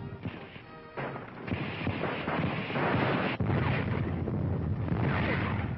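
A bomb dropped by a Nazi Stuka dive bomber bursts in the 1943 North African campaign, heard as a rough, rumbling crash followed by sustained, noisy blast roar on an old, thin-sounding recording.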